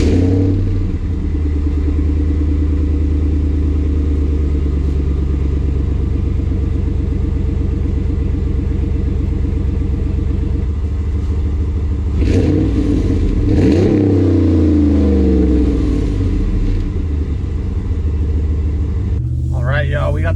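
A truck with a Flowmaster Super 44 muffler idling in a deep, steady rumble, then revving up and falling back, loud and close, with a brief second rev near the end.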